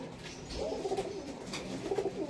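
A teddy female pigeon coos softly in two low, rolling phrases over a steady murmur of background noise.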